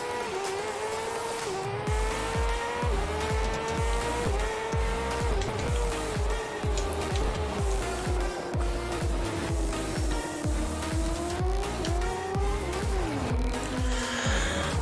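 Motorbike racing in a video game, with a continuous high engine whine that rises and falls as gears shift, steady and loud throughout with no talk over it.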